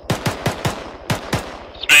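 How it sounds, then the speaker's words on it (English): Gunfire in Arma 3 combat, six sharp rapid shots in a quick uneven burst from a moderate distance, followed by a brief louder crack at the end. "Shots to our northwest."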